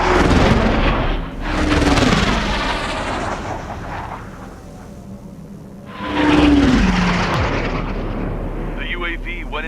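Jet aircraft roar in Ace Combat 7, loud sweeping engine surges that rise, fade and swell again, with radio voices talking over the noise.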